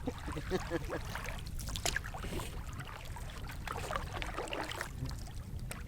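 Canoe paddling on Knife Lake in the Boundary Waters: steady water swishes and splashes from the paddle strokes over continuous low rumble, with a voice murmuring faintly in the background.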